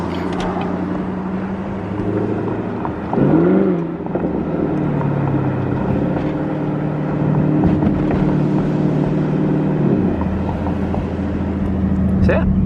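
A loud, deep MBRP exhaust rumble on a Chevrolet Camaro SS heard from inside the car, steady and droning, with a brief surge partway through.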